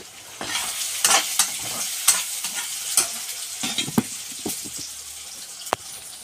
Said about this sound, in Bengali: আমি আলুর মধ্যে দিয়ে দিয়েছি। তো ওটা এখন ফ্রাই হচ্ছে